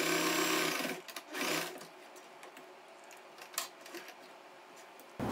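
A sewing machine runs a lock stitch at the end of a seam while stitching a churidar, with a loud whirring burst at the start, then shorter stops and starts before the motor picks up again at the close.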